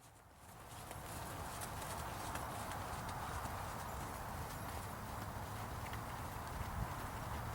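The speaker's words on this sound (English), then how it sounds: "This horse moves with a slow, collected gait" A horse walks at a slow, collected gait, hooves giving a soft, even clip-clop beneath a broad, steady wash of noise that rises after the first second and stays level.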